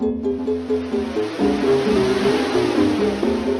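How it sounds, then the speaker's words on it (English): AI-generated video game music: a short, steady tonal loop with layered sustained notes and a low bass line, played at moderate volume with no talking. "I even found an AI that could make me music that I could use in the game"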